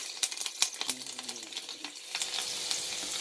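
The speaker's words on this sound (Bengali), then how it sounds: "এবার আমি কড়াতে একটু তেল দিয়েছি, তেলটা গরম হয়ে গেছে। তো এই 4টে কাঁচা লঙ্কা দিলে" Four green chillies frying in hot oil in a wok, a steady crackling sizzle with sharp pops and spits near the start, then a denser hiss as the frying continues.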